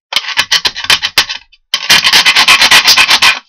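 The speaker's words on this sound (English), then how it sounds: "When filing such thin material, don't go square down, go diagonally." Metal file rasping across the burred edge of thin sheet metal for a portable rocket stove, two bursts of brisk rhythmic strokes separated by a short pause, loud and close with no talking.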